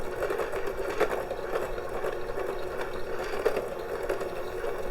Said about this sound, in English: Just creaming the butter and the sugar.